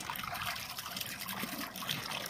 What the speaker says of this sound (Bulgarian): В момента те се къпат, също и хранят по този начин във водата.